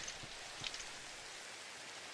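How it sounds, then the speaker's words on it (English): Soft, steady rainfall ambience inside a Minecraft-style block game, a faint continuous patter with a couple of slightly louder drops early on. "It's raining down here."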